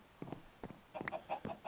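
Minecraft chickens cluck in short, separate bursts, about five quick clucks spaced across the moment, fairly quiet and close, with no talking.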